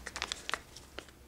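A plastic bag crinkles in a handful of short, sharp rustles, close but quiet, over about a second.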